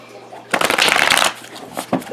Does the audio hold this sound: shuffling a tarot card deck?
yes